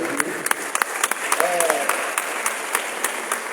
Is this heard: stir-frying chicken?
no